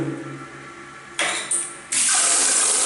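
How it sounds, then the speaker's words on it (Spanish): A rusty shower tap is turned on and water gushes out in bursts, quickly swelling into a strong, steady running stream close to the microphone. "llave de ducha funcionando"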